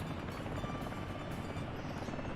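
Sky crane helicopter in the Soviet-era city-building game Workers & Resources, a steady dense rotor-and-engine drone holding at an even level, with no talk over it.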